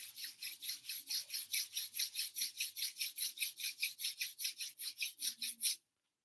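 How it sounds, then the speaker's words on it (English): Hands rubbing together briskly, a close rhythmic swishing friction of about two dozen even strokes that stops abruptly. "And then rub your hands together."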